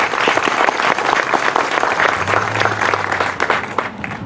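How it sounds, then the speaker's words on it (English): An audience at a crime victims' vigil in Delano claps steadily, a loud, dense wash of applause with a low hum running underneath partway through. "Let's give him a hand clap here."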